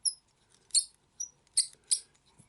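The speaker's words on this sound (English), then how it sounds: "Got a squeaky spool there." Squeaky spool of a fly-tying bobbin as thread is wound on a fly: a handful of short, high, thin squeaks in an irregular rhythm, close and fairly quiet.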